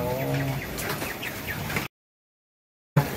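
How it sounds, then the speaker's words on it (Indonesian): Golden quail at an egg-laying quail farm give a run of soft clucks and chirps, fairly close and overlapping in a busy flock, broken by a short stretch of silence before the calls resume. "Untuk bisa lebih kondisi burung punya sendiri bisa sehat, bisa tumbuh dengan maksimal, biasanya untuk jenis yang golden ini Mas Aji kasih pakan apa aja nih?"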